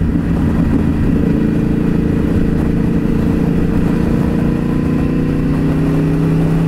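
A Yamaha R1 sport motorcycle engine drones steadily at high speed, loud and close with constant wind rush and no pauses or voices.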